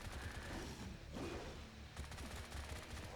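Sustained automatic gunfire from the Bright Memory shooter game, dense rapid bursts running through nearly the whole stretch with a short dip near the middle, loud and continuous with no speech.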